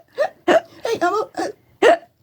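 A voice imitates hiccups, giving a run of six short, close vocal hics spaced unevenly across the moment, each a sharp gulping burst with brief silence between.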